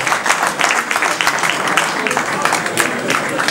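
Audience in an arena applauding a basketball player after an Angers match, loud dense clapping throughout, with a voice over a speaker system heard under it.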